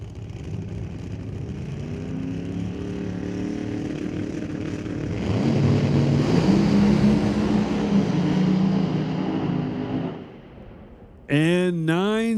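Two drag racing cars, driven by Ryan Martin and Dave Mendez, launch down the strip during Friday qualifying at Smoke Fire and Thunder, a rising engine roar surging louder midway, then cutting off abruptly before a brief voice.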